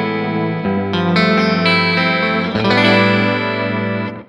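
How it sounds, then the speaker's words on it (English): An electric guitar runs through the chorus modulation of a Walrus Audio ARP-87 delay pedal, with strummed and picked notes shimmering and wavering with a lush chorus and trailing echo, loud and close with no talk. "Beautiful chorus sound."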